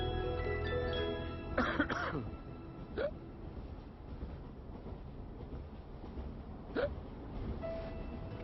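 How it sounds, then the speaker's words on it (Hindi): Several sudden hiccups jolt out at irregular intervals over a droning, train-like background rumble, with a few voiced catches in between. "मम्मी फिर हिचकी"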